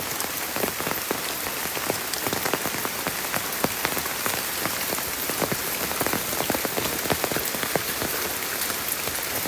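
Steady rain pattering on a mountain trail on Mount Salak, dense and even with close drops hitting the ground and leaves, no voices.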